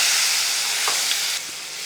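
Kashmiri chili powder and turmeric being stirred in a hot pan for a Kerala moru curry, a steady loud sizzle and hiss with faint scraping, no voice.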